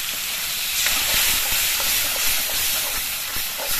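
A loud, steady hiss of water hitting spices frying in a hot pan, with chilli paste and chilli powders, continuing evenly throughout with faint crackles and no talk.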